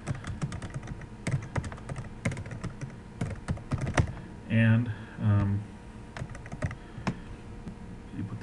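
Rapid typing on a computer keyboard, a steady patter of close key clicks that pauses briefly while someone speaks, then resumes.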